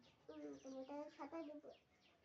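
A chicken clucks in a short run of calls, fairly near, over a low background with no one talking during the calls.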